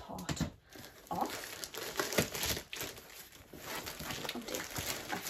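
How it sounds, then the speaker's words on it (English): Soft crinkling, rustling and tearing as the outer wrapping of a Disney merchandise unboxing package is ripped off, with quiet irregular crackles and scrapes close by. "Actually, rip this outer part off."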